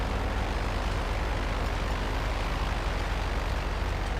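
Steady, broadband airplane engine drone from the GTA Online video game, a constant, even roar with no pauses or voices.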